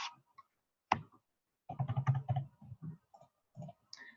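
Keys tapped on a computer keyboard while entering cooling performance figures into residential energy modeling software, a few sparse clicks, then a short quick burst of typing, then a few more isolated taps, all faint and close.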